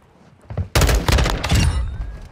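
Video game gunfire erupts as a sudden loud burst of rapid shots from a sniper fight, sharp cracks following a quieter lead-in.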